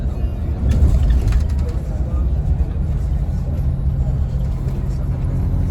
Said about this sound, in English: Let's see if we can get to Palermo in 2 hours on the bus